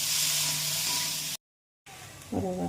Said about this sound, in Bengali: আমাদের কাঁকরোলগুলো প্রায় ভাজা ভাজা হয়ে গেছে।